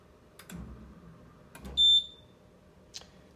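A Corghi EM9250 wheel balancer gives two soft mechanical thumps, then a sharp high electronic beep, followed by a fainter click; quiet machine sounds with no speech.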